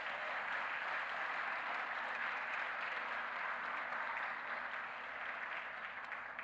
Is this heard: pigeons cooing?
no